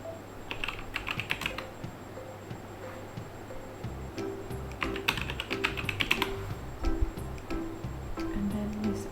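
Password keys tapped on a computer keyboard during a software install on Ubuntu: quick, irregular clicks in short bursts, close and fairly quiet against a faint steady background hum, with no talk.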